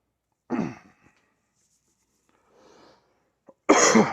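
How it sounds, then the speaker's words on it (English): Two sharp, explosive coughs break a near-silent stretch, with a faint breathy sound between them. "My apologies. I still have a cough."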